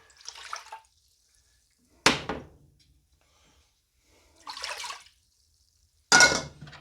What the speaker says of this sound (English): Add 2 cups of water.